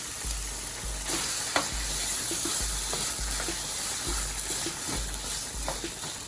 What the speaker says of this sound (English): I'm moving my pasta a little bit.